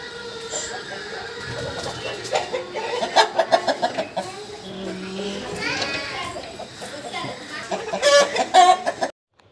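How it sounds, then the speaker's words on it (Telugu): A Nemali Pingala rooster, a 14-month-old Bhimavaram fighting breed cock about 3 kg, clucks and calls repeatedly in bursts near the microphone over a farmyard background, with a louder crowing-like burst toward the end. "వీడియోలో కనిపిస్తుంది నెమలిపింగళ పుంజు"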